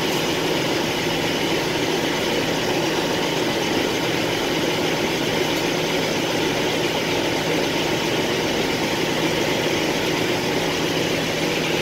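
A vehicle engine runs at a steady idle, a loud, continuous low rumble with a constant hum and no change in pitch across the whole stretch, with no voices.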